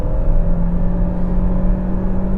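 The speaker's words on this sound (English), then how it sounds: "So the engine's loud" Dacia Jogger hybrid engine revving hard under full acceleration, a steady loud droning hum with a strong low rumble and sustained tonal whine, continuous and close with no talking.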